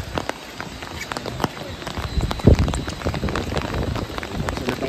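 Rain falling at Taiping Suspension Bridge in Meishan Township, Chiayi County, Taiwan, a steady patter of drops with scattered sharper taps and a few footstep-like thumps, while people talk faintly nearby.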